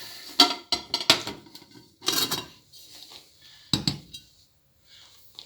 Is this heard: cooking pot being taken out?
yes